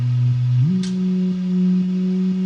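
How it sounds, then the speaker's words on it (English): A Moog synthesizer plays a smooth, steady melody line driven by MIDI notes, one tone gliding up in pitch and then holding, loud and close with no talking. "I sent those MIDI notes out through USB into my Moog"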